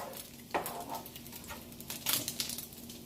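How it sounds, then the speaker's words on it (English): Bacon fries in a pan with a low crackling sizzle, broken by a few clinks and scrapes of cookware, close by and with no voices. "Just frying up a little bit of bacon here."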